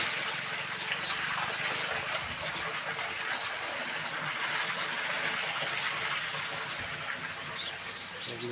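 A constant stream of water runs into a tank outdoors at a village home, a steady splashing gush that holds at an even level throughout, with faint birdsong behind it.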